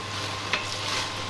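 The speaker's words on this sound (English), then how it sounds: "And start frying it. Keep stirring it around." Beef sizzles steadily in a hot pan as it is stirred around, a continuous soft crackle with occasional scraping accents, close and moderately quiet.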